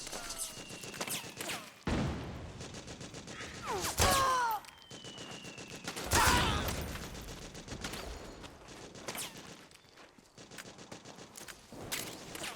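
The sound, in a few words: gunfire in video game Metal Gear Solid 4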